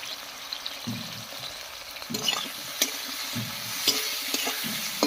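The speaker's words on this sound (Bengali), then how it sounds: "এবার বেগুনটাকে বেশ একটু ভাজা ভাজা করে নেব।" Eggplant sizzles steadily in hot oil with salt and turmeric while a utensil scrapes and stirs the pan with a few sharp clinks, close up and without voices.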